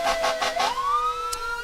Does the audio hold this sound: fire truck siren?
yes